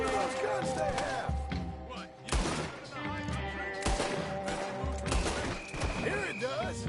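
Gunfire in Red Dead Redemption 2 cracks out in several sharp, loud bursts over a busy game soundscape, with shouting voices and clatter mixed in throughout.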